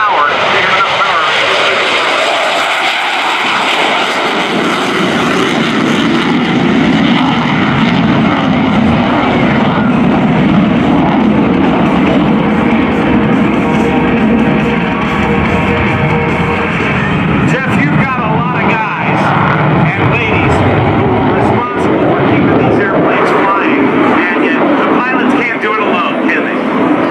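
An F/A-18F Super Hornet's jet engines roar at full throttle after a bolter at the NAS Oceana airshow, a loud, sustained, distant rushing thunder that holds throughout while an announcer talks over it.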